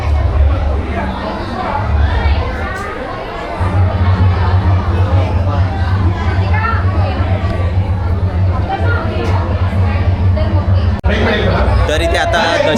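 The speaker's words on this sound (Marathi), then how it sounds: "आता एवढी गर्दी आहे काय सांगू." Dense crowd chatter fills a packed Ganpati pandal in Bhiwandi, a steady close hubbub of many overlapping voices with a low rumbling hum underneath and a brief dip partway through.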